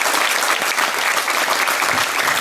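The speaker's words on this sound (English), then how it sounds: "Let's have a big round of applause for our caterers, Barry and Elaine Gillingham, and thank them" Wedding guests break into loud, dense applause for the caterers, a sustained burst of many hands clapping close by in a reception hall.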